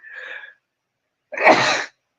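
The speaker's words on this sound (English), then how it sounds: "You sneezed." A person sneezes indoors. A short soft intake comes first, then a pause and one loud, close, breathy sneeze burst, heard alone.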